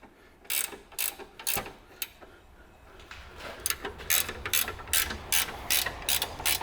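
A ratchet clicks in rapid bursts while a bolt is tightened on a Land Rover Freelander wishbone, the sharp metallic pawl strokes coming close and loud, pausing briefly before a longer run of repeated cranks.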